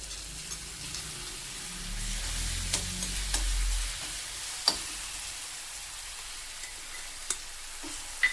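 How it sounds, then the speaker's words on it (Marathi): Low bubbling hiss of green chillies frying in oil in a kadhai, with scattered sharp pops and crackles spaced out over several seconds. "एका कढईत मी आता तेल टाकून घेतले त्याच्यात आधी आपण मिरची टाकूयात"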